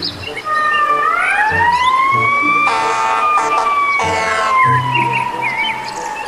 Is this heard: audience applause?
no